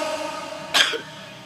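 A single short, sharp cough bursts out clearly after a moment of low background hum, then fades back to quiet.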